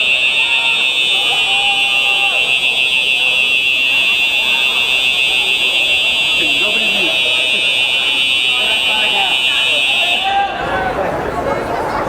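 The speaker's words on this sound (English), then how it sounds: "And we've got fire alarms. Everything going off in the clubhouse this evening up here at the Sevens." Fire alarms blare continuously in a clubhouse at a rugby sevens ground in Dubai, a loud, shrill, unbroken electronic buzzing tone that dominates for over ten seconds before cutting out, with a commentator talking over it.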